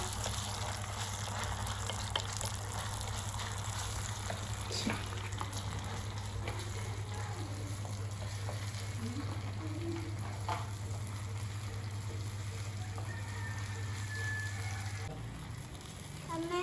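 Potatoes and spinach fry gently in a pan for aloo palak sabzi, giving a soft, even sizzle with a steady low hum beneath and occasional faint stirring.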